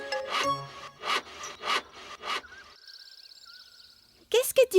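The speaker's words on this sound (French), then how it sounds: "Je suis en train de scier de grosses bûches en planches" Rhythmic back-and-forth strokes of a hand saw cutting big wooden logs into planks in a forest, several loud rasping pulls in a row, followed by a sustained whistling tone and a brief burst of bright chirps in a cartoon setting.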